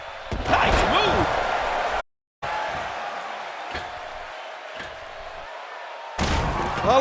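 A heavy wrestling slam impact in the WWE 2K16 video game hits with a loud crowd roar. The crowd noise cuts out briefly, returns at a lower level with scattered thumps, then surges again near the end.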